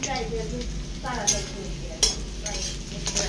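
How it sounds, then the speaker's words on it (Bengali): Dal tempering sizzling in a home kitchen pan, crackling fry with sharp bursts as spices hit hot oil and stirring scrapes, close and steady. "ডাল সম্বরা রেডি করছি, ডাল সম্বরা দেবো"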